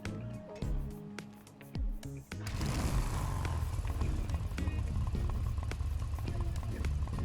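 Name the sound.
motorcycle engine warming up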